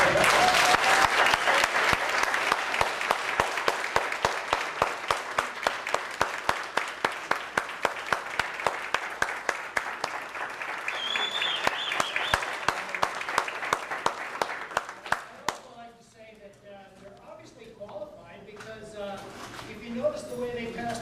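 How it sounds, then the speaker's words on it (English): Audience applause at a city candidate forum's closing statements, a steady wash of many hands clapping for about fifteen seconds before thinning out, with a voice speaking over the fading claps. "I'd like a big applause for all of them."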